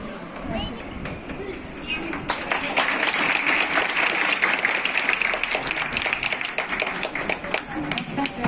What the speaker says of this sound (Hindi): जोरदार तालियों से स्वागत करें कृपया।